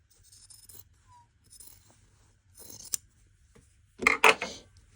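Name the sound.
scissors trimming fabric seam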